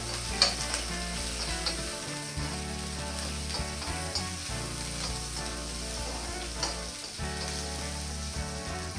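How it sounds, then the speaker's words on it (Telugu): Onions frying in a pan for an Andhra spinach (palakura) fry, a steady close sizzle running throughout with occasional stirring scrapes and clicks, no talking. "ఇప్పుడు ఉల్లిపాయలు వేసుకోవాలి. ఇది కూడా ఫ్రై చేసుకోవాలి బాగా."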